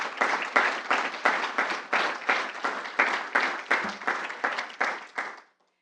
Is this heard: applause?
yes